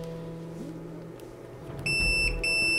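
A multimeter gives a short, bright continuity beep in two quick pulses near the end while a transistor is tested for a radio repair. Before it there is a quiet background hum, and nobody speaks.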